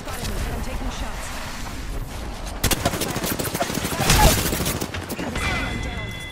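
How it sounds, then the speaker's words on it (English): Gunfire in a shooter video game: dense bursts of rapid shots and crackling volleys, loud and close, swelling in the middle with a heavier blast, while a voice speaks over parts of it. "They spotted me, but I'm taking shots."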